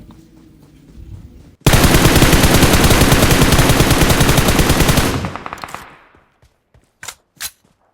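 A sustained automatic burst of gunfire in PUBG hammers out rapid, loud, evenly spaced shots for several seconds, then cuts off, followed by a few sharp isolated reports.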